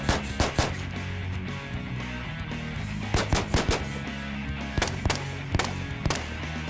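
Shots from a Stag Arms Model 3G rifle ring out in quick bursts, sharp cracks in pairs and triplets with short pauses, against a steady outdoor background.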